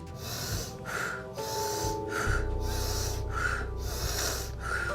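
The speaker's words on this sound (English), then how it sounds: "pranic breathing tutorial titled How to Breathe" A pranic breathing demonstration: forceful, rhythmic nasal inhales and exhales, about five loud breath cycles in a row, close up and with no other sound.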